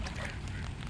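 Ducklings swimming and playing in village water give a brief burst of soft quacking. It is set against a dense, noisy outdoor background.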